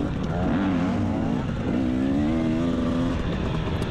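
KTM dirt bikes race in a motocross event: loud, continuous engine roar with rising and falling revs as the bikes accelerate close by.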